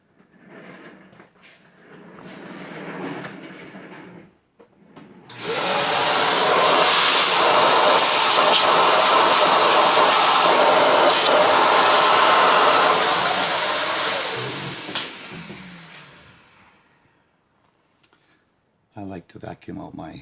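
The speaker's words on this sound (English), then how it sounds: "I like to vacuum out my debris." A loud vacuum cleaner roars steadily for several seconds, sucking debris out of a Tostar Tele TTE 150 SBK, then winds down, with brief rustling and handling noises before and after.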